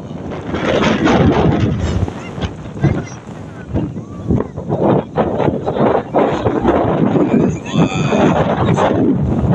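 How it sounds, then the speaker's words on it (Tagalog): Strong wind roars and buffets the microphone in loud, continuous gusts on Mount Eden, New Zealand. "malakas yung hangin dito."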